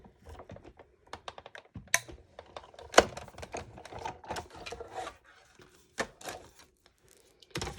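A die-cutting machine feeds layered card through its rollers in a dense run of sharp clicks and rattles, with an uneven rhythm and louder snaps spread across the stretch, close by with no talk.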